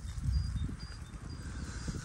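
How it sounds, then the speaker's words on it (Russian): Horses in a paddock in a Polish village make faint, low rustling and shuffling sounds, with a soft snort or hoof movement, outdoors and somewhat distant, no speech. "Здесь видно кони, вольеры для коней."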